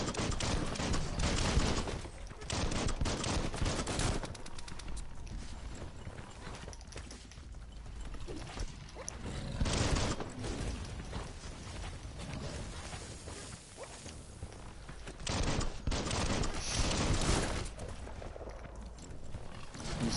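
Bursts of rapid gunfire in the video game Biomutant crackle through loud, dense clusters, with pauses between volleys and scattered impact and movement noise throughout.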